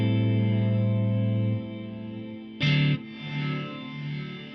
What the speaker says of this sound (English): So this is a backwards and that's a forward delay